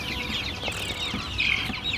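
Couple dozen older laying hens cluck and chatter steadily inside a coop, a dense overlapping flock sound with a slightly louder burst near the middle, no talking.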